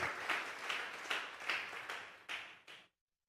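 Church congregation clapping hands at a vigil as an offering of praise to God, a dense burst of applause rising and falling in several waves before stopping abruptly.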